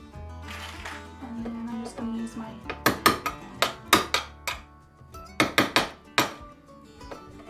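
A butter knife pushes metal glazier points into a mirror frame during an upcycle into a memo board, giving a run of sharp clinks and taps in uneven clusters, near and fairly loud, with a low hum beneath.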